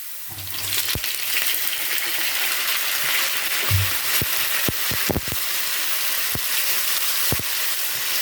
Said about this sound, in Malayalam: ഇനി നമുക്ക് നാരങ്ങ ഇട്ട് കൊടുക്കാം.